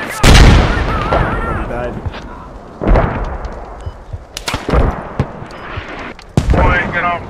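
Mortar explosions in the military shooter game Squad land as several heavy, booming blasts spread over a few seconds with sharp gunfire between them, loud and close, while a voice talks over the action.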